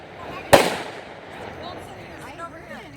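A single sharp firecracker bang from New Year's 2017 fireworks cracks nearby and then fades. Faint background noise and distant voices follow.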